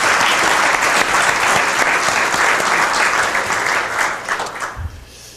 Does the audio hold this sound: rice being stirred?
no